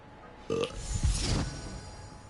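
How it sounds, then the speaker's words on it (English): A character in the video game Hogwarts Legacy lets out a single short, throaty burp that rises and fades over about a second, close and fairly quiet. "Uh-oh, I'm burping."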